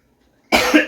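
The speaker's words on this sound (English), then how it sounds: "One cough is pretty good." A single close, sharp human cough bursts out of near silence, with a brief second exhale at the very end.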